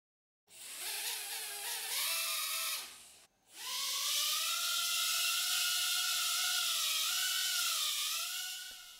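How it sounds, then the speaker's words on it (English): A Revell Nano Hex hexacopter takes off, its small motors spinning up into a close, high-pitched whine. The whine breaks off briefly, then returns as a sustained buzzing tone that wavers in pitch. "The copter is ready for takeoff."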